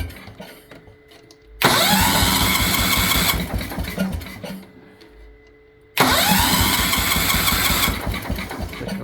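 A Kohler K241 10hp single-cylinder engine starts twice, each time roaring loudly into steady running before dropping back to a low rumble between attempts.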